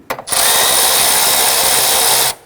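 A power tool whirs steadily as it snugs down the battery hold-down bracket on a 2013-2019 Ford Interceptor Utility, loud and close, running continuously for about two seconds after a brief start.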